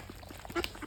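A duck at a farm quacks once, short and moderately close, among faint outdoor background noise and other fowl.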